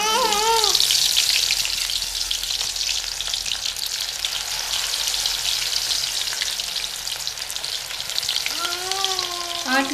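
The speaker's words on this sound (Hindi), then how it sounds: "तो अभी मैं पकोड़े बना रही हूँ।" Spinach pakoras frying in hot oil, village-style home cooking, a loud continuous crackling sizzle close up that holds steady throughout without talk.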